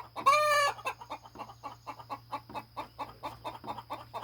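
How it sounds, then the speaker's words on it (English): A homestead flock of chickens: a short shrill rooster crow up front, then a steady run of soft rhythmic clucks nearby, fairly quiet over a low constant hum. "as well as a bunch of chickens, and Mercy."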